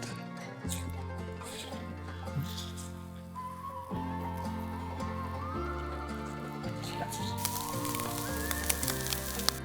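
Trout fillets in butter sizzle in a pan during outdoor cooking, a steady soft crackle running beneath louder background music.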